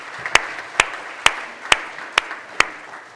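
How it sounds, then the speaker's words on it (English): Six crisp, evenly spaced claps ring out at a slow, steady beat during a Rotary club meeting, honoring its volunteers, with a faint room hum between them. "Let's give them a round of applause for their work that they do."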